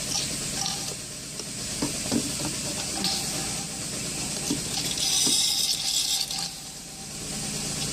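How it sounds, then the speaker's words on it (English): Wet, gurgling suction as an extractor pulls old brake fluid out of the reservoir of a 2011 Chevrolet Traverse, a steady close hiss with a low hum beneath and a few soft clicks, no voices. "it's sucking everything out, so we can get the little dirt and dirt particles out"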